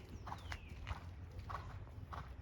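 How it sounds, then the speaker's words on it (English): A horse cantering on the right lead during a riding lesson, its hoofbeats landing as soft, evenly spaced thuds with a steady rolling rhythm, moderately close and fairly faint. "Okay, so right lead canter."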